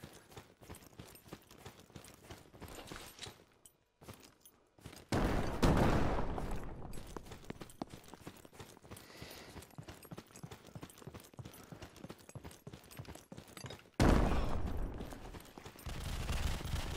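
Gunfire in the PSVR shooter game Alvo, with dense rapid bursts of automatic fire through most of the clip and louder volleys at two points, fairly faint overall.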